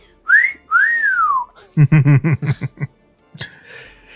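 Two rising-and-falling whistles, like a wolf whistle, followed by a burst of laughter and a short sharp whistle at the end.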